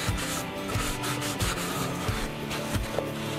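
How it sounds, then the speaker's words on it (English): Rag rubbing wood stain into a carved wooden box, a steady rhythmic scrubbing with regular strokes roughly every half second, close and fairly loud with no talking. "get the stain all over the box and wipe it in good, and then wipe off the excess"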